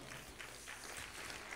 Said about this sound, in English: that's a golf hand clap